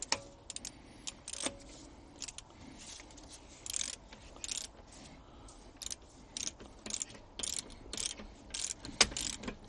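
Wheel nuts being tightened on a car during mobile tyre fitting: a run of sharp metallic clicks and ratcheting bursts, fairly close, uneven in rhythm, with no talking.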